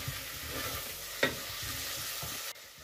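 Two spoonfuls of fried tomato sauce sizzle quietly in a pan with a steady frying hiss, a few soft stirring scrapes and one brief sharp clack, without any voices.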